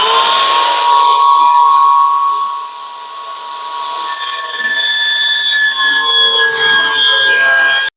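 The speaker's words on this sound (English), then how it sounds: "we're going to use the fence on the table saw to actually cut this out" A Ryobi table saw cuts a board against its fence with a loud, sustained high whine that dips briefly mid-cut and then rises again until the blade stops.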